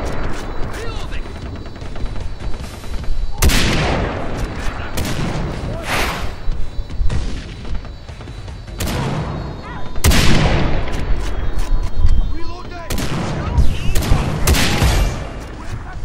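Gunfire in the video game Far Cry 3 during co-op play; several loud, sharp shots and booms spaced a few seconds apart over a constant rumbling background, close and punchy.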